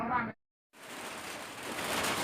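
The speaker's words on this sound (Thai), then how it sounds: "ฝนตกแล้วนะคะ" Steady rain drums on a corrugated tin roof, a dense, even wash of sound that holds close and fairly loud after a short burst of voice and a brief silent gap.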